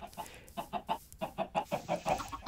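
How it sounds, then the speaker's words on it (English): Several chickens cluck in a Minecraft game, a rapid run of about a dozen short, evenly spaced clucks over a couple of seconds, moderately loud with no talk. "I'll have to kill a chicken or two in order to get some arrows."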